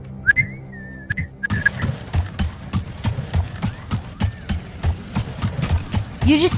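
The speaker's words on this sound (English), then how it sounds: "Dude, I just keep whistling." A melodic whistled tune rises at the start, then gives way to rhythmic clip-clop footsteps and thuds inside a Fortnite prop hunt match, with a few faint whistle traces over the repeating steps.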